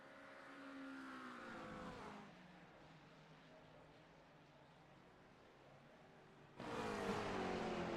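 Lamborghini race cars roar past on the Virginia International Raceway circuit in an endurance race, engines droning loud and steady, fading to a lower hum before another car blasts through with a sharp rise at the end.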